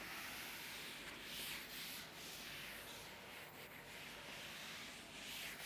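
Eraser rubbing writing off a classroom board, a continuous soft scrubbing swish in steady strokes, moderately close and quiet, with no voices during it.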